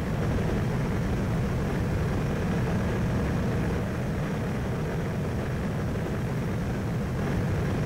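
Steady droning aircraft engine of a plane flying in the video game Anno 2070, a continuous broadband roar holding level and close throughout with no pauses.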